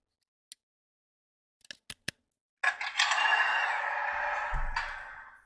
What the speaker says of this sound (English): All right, so we'll throw a battery in this guy.